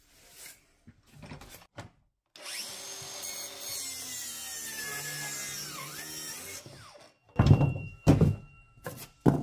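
Bosch GKT 18V-52 cordless plunge track saw cutting Douglas fir about 27 mm thick: one steady whirring cut lasting several seconds, with scattered knocks and handling thuds before and after it.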